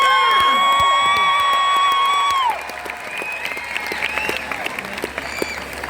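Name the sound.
audience applause and cheering welcoming performer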